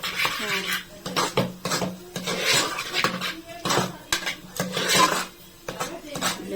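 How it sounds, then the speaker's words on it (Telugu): Tamarind juice stirred into lentil dal in a metal pot, with repeated clinks and scrapes of a spoon against the pot in an uneven rhythm, close and fairly quiet. "ఇప్పుడు ఈ పులిహార పులుసు ఇందులో కలిపేస్తున్నాను."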